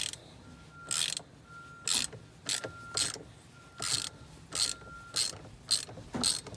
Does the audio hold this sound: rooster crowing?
no